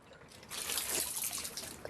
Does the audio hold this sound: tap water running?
yes